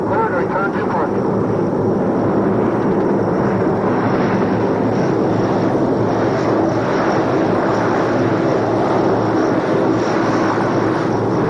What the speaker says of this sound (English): All aircraft are cleared to return to parking.